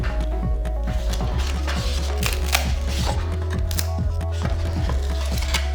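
A blade slices a bevel along the edge of a foam-board rudder for an RC plane, giving a steady scraping rasp with small ticks over a constant low mechanical hum, close and even throughout.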